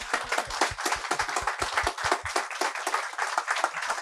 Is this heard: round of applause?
yes